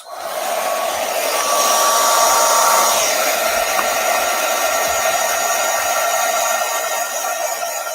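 A handheld hair dryer blows steadily close up while drying black paint on a pumpkin craft, a continuous loud whooshing whine with no talking.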